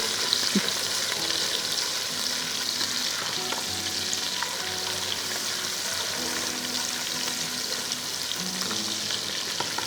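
Garlic sizzles and fries in hot oil in a kitchen pan, a steady loud crackle and hiss running throughout with faint stirring and utensil clinks, no one talking.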